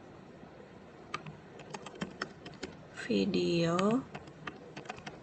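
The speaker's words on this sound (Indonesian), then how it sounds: "Misalnya saya ketik tujuan, kemudian materi" Keystrokes on a computer keyboard, light scattered taps over a steady background hiss, close but soft, with a short burst of speech in the middle while the typing continues around it.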